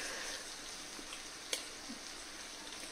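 Dried fish frying in a pan gives a steady, even sizzle throughout, with one faint sharp tick near the middle and no voices.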